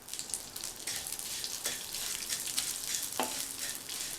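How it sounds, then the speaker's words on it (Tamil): Vermicelli frying in ghee for payasam gives a steady soft sizzle with faint crackles and occasional light stirring taps, close and fairly quiet with no talking. "மீதி இருக்கிற அதே நெய்யிலேயே 1/4 கப் சேமியாவை சேர்த்து வறுத்துக்கலாம்"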